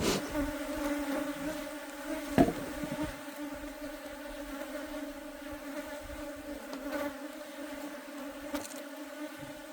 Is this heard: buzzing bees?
yes